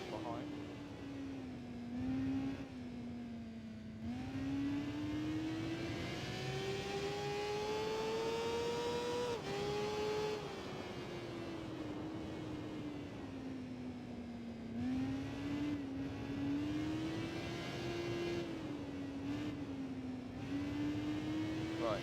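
A Honda CBR motorcycle engine racing in the Tourist Trophy video game, a steady high whine that rises and falls with the throttle through gear changes, heard continuously with speech over it.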